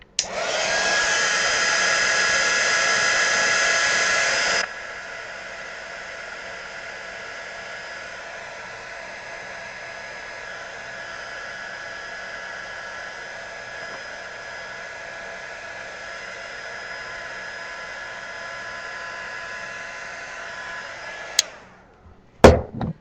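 A handheld dryer blows hot air over craft paint, a loud steady whoosh at first that drops to a lower, softer hum for most of the time before clicking off, followed by a few brief handling knocks.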